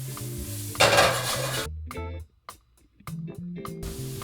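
Garlic, shallots and pepper sizzle in a pan, with a loud burst of frying near the start, then spoon stirring and pan clatter in short bursts and a brief pause.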